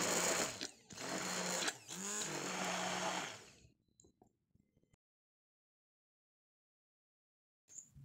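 An electric mixer whips homemade mayonnaise with a loud, steady motor whir that breaks off briefly twice, then stops into near silence before a short final burst.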